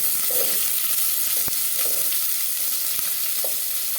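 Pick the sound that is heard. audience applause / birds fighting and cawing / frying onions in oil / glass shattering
frying onions in oil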